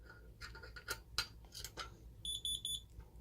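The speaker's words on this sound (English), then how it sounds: "CO zone, we'll just actually activate that with the hex key." An Ademco 6150 alarm panel sounds its CO zone test alarm: a run of rapid, evenly spaced high electronic beeps, close and clear, following scattered clicks and handling knocks.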